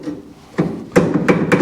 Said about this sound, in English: Grab yourself a hammer, give it a big whack.